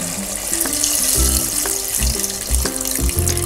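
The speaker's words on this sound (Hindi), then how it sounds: "अब हम इसमें 1 लीटर पानी डालेंगे।" Water pours steadily into a cooking pot holding spiced, fried arvi and mutton for a shorba-style curry; a continuous splashing rush with shifting tones as the pot fills, fairly loud, no talk.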